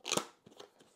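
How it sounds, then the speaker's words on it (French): Cardboard packaging for a Sennheiser HD 25 DJ headphone is opened by hand: a crisp crunching tear up front, then a few softer crackles and rustles close by, with no voices. "J'aime bien ouvrir les boîtes assez proprement, tu vois, pas ouvrir ça"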